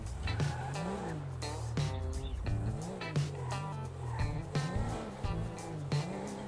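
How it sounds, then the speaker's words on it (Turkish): A Tofaş car engine in GTA 5 drones and revs repeatedly, pitch rising and falling with gear shifts, with sharp exhaust pops and occasional tire squeal, no talking. "Egzoz sesi harika arkadaşlar."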